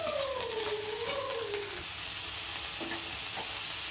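Dried red chillies and chopped onion with a little salt sizzle and fry in a pan, a steady close hiss throughout with a few stirring scrapes, while birds coo in the background.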